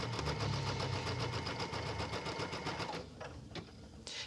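A sewing machine runs a quick top stitch across a Christmas mailbox quilt block, a steady rapid mechanical whir for about three seconds before it slows and stops, leaving a few faint clicks and handling sounds.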